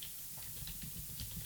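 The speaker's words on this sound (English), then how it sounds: "It's hard typing this way." Fast typing on a computer keyboard while entering values, a run of light, irregular key clicks over low background hum with no voices.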